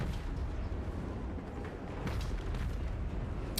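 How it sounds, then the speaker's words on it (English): Cathay cannons fire in a Warhammer-style battle video game, dull booming blasts landing several times over a dense, rumbling battle din with no talking. "I really like the sound and look of these new Cathay cannons"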